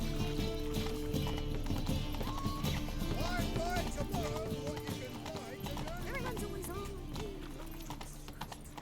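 Roach, a horse in The Witcher 3, gallops with rapid rhythmic hoofbeats under dense game music and ambience, a steady clatter that runs the whole time.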